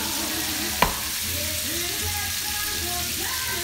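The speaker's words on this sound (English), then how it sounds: "They're sizzling, getting softer." A steady, close sizzle of green beans frying in a pan, with a brief clatter near the start; no talking.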